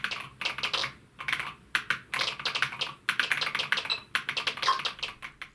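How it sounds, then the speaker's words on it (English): Rapid bursts of ZX Spectrum keyboard key clicks with amplified beeps, in uneven clusters, close and crisp, with brief pauses between runs of typing. "the beep amplifier is loud enough to almost cover the key clicks"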